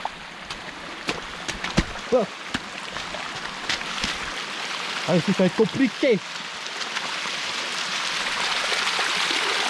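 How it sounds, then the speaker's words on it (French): A small waterfall on Réunion Island makes a steady rush of falling water that swells louder toward the end. Brief spoken exclamations and a few knocks and footsteps come over it. "Oh, là par contre, on a une petite cascade."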